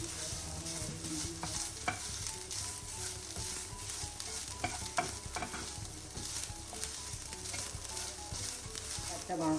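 Grated coconut fries in a pan for a prawn puttu, a close, continuous sizzle broken by repeated scraping stirs of a spatula, steady in loudness with no talk.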